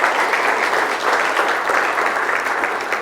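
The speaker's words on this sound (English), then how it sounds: "Round of applause." Audience at a business awards event clapping, a dense sustained burst of applause from many hands, loud and even throughout.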